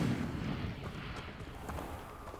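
A fire spell cast in the video game Hogwarts Legacy bursts out as a loud, rumbling whoosh with a booming low end that fades into a sustained crackling roar, with no voices over it.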